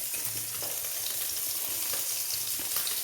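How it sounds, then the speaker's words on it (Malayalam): Mackerel curry bubbles and sizzles in a pan on the stove, a close, continuous hissing boil with small pops throughout and no voices over it. "നമ്മുടെ മീൻ ഇവിടെ തിളച്ച് വന്നിട്ടുണ്ട് അയല"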